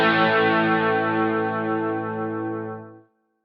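A Boss GT-1 on its combo crunch preamp gives an overdriven electric guitar tone with chorus and reverb, one loud sustained strummed chord that rings out and fades, then cuts to silence after about three seconds.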